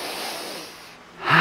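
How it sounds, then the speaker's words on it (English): A person takes sharp sniffs of air through the nose during a guided mindful breathing exercise, with soft breathy airflow building to a louder, close nasal intake at the end. "let's just take three sniffs of air through the nose"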